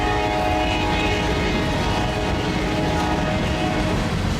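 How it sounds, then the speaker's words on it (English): CN and CSX locomotives pass close by a Loram rail grinder train, a loud continuous roar of engines and rolling wheels with a steady droning tone throughout. "Looks like a GP locomotive towards the hind end of that lash up too."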